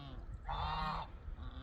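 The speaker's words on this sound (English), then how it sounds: "the geese are coming home for a minute" Geese honk in a loud burst of overlapping calls at close range, set against quieter honking and outdoor ambience before and after.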